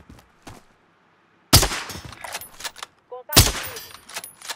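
Gunfire from the video game Call of Duty Warzone comes in two sharp bursts of rapid shots, each followed by scattered fainter pops and clicks in otherwise quiet game sound.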